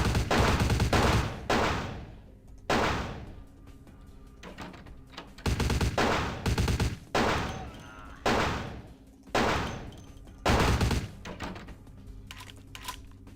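Repeated bursts of loud gunfire from Vampire The Masquerade: Bloodlines, clustered volleys separated by short gaps of quieter game sound and faint key clicks.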